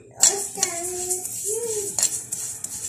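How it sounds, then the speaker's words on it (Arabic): Peppers warming in a pan on a home stove, heard as light metallic clinks and scraping of the pan with soft sizzling hiss, close by, with no talk. "هنا جبنا طاسة نسخنها اهو، ونحط عليها الفلفل نسخنه"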